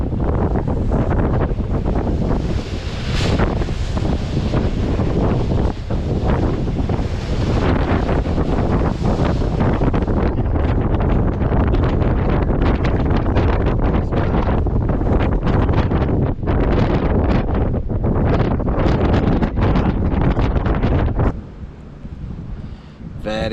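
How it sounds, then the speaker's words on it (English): Strong wind on a rocky North Wales coast while fishing, a loud continuous roar buffeting the microphone for about twenty seconds, likely with surf beneath, before dropping sharply near the end. "This wind is making things very, very difficult."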